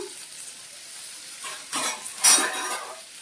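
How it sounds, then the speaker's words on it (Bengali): Salted potato pieces fry in oil in a pan, giving a soft continuous sizzle close by, with a few louder stirring scrapes and a brief metallic clink near the end. "আলুগুলো দিয়ে দিলাম একটু সামান্য নুন দিয়ে আর তেল দিয়ে আলুটা দিয়ে দিলাম"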